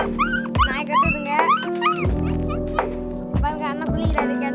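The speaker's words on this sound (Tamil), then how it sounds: "நாய் கத்துதுங்க" A dog barks and yips repeatedly in short, high bursts near a village well, close and loud, with whimpering between barks and people talking over it.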